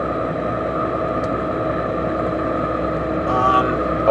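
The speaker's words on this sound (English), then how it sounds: "whirring noise, which I think is the gear drive" A truck engine gives a steady, loud whir from its gear drive, a constant mechanical hum and drone, unbroken throughout, swelling slightly near the end.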